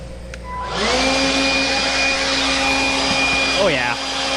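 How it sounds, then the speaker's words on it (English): A Greenworks 40V cordless leaf blower with a long spout spins up to a loud, steady whine while clearing debris from a header, holding its tone before winding down near the end. "I wonder if it'll actually blow this stuff out."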